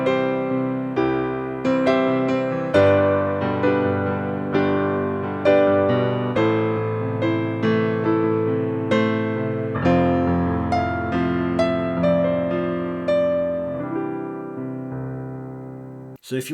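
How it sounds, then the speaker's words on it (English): Piano plays sustained broken-chord patterns with the pedal held, so each struck chord rings into the next in a steady, flowing rhythm. Close and clear, with no voices, ending abruptly. "you can always use the pedal when you're playing piano"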